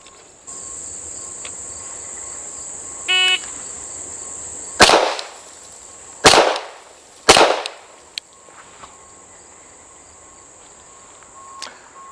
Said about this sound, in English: From 15 yards, I'm firing 3 consecutive shots to the body.